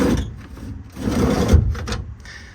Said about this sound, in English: Most of these drawers slide fine.